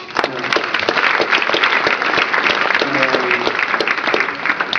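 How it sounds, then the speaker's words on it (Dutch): Loud applause from a room full of people, brisk dense clapping with a few voices faintly audible underneath. "dus ook applaus voor hem"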